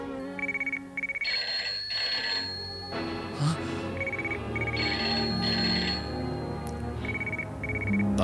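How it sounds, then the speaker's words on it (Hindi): An old-style telephone bell rings in repeated bursts in a Hindi TV drama scene, its bright trilling chimes recurring over background music for several seconds. "देखो किसी का फोन आया"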